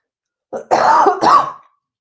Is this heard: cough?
yes